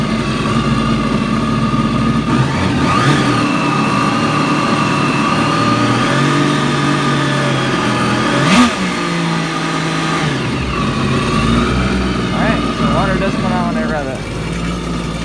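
A jet ski engine recovering after being sunk revs in short bursts and settles back to a steady idle, loud and close, with brief mechanical clatter between the revs.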